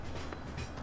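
A train rolls past in the Farming Simulator 15 video game, producing a steady, dense rumble with faint rhythmic clacks, heard alone for under a second.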